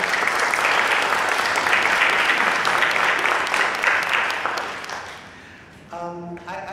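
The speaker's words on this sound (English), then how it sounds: "I want to just give him a round of applause." A conference audience in Singapore applauds a speaker on the arts with sustained, dense clapping that fills the room, then thins and fades out near the end as a few scattered claps and a voice take over.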